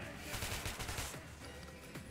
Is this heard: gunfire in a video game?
yes